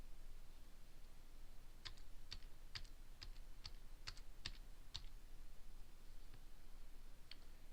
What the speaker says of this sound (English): highlight the date and type in what you want from the keyboard